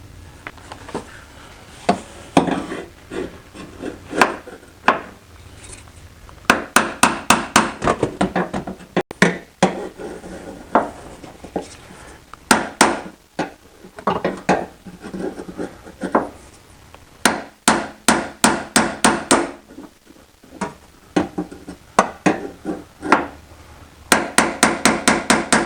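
Sharp metallic hammer strikes on a 10-inch punch while removing the bumper cover of a 2005 Cadillac STS, coming in irregular bursts of rapid blows separated by pauses, close and loud.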